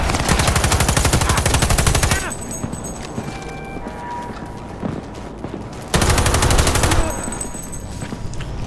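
A light machine gun fires in Cyberpunk 2077 in two loud, sustained bursts of fast, rattling shots, separated by a quieter stretch of game noise.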